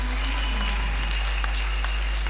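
Church congregation applauding to acclaim Jesus during a family worship service, a loud, steady wash of clapping that fills the whole stretch without a break.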